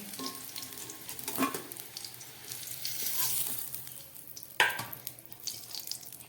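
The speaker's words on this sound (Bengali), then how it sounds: "এই তেলের মধ্যেই আমি দিয়ে দিচ্ছি আলু, আর দিয়ে দিচ্ছি কেটে রাখা ঝিঙে।" Sliced potato and ridge gourd going into hot oil, a steady close sizzle with crackling spikes as pieces drop in and are stirred, no talk.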